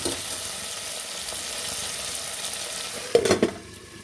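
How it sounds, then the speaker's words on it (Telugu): Village-style potato and chana dal curry frying in a pan with a steady broadband sizzle, then a short burst of scraping and clatter near the end as tomatoes are stirred in. "టమాటా వేసుకొని కలుపుకొని మూత పెట్టి కాసేపు మనం మగ్గించుకోవాలి"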